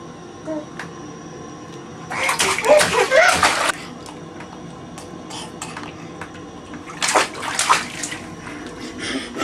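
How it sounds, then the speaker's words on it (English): A small child splashes water in a bathtub at home in two lively bursts of slapping and sloshing, with faint voices and quiet moments between them. "Can you splash? Splash, splash, splash."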